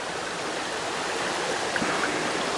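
Steady, even rush of a shallow, low Catskills mountain stream flowing fills the clip, a constant broadband wash with no pauses or voices.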